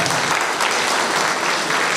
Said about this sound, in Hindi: डबल डायमंड मिस्टर संजीवन सर, उनके लिए भी मैं जोरदार ताली चाहूंगा।